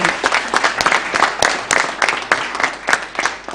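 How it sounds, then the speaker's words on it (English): An audience at a moot court competition event in Kenya claps steadily, a dense spatter of hand claps close by that keeps going without pause and with no talking over it. "So let's clap"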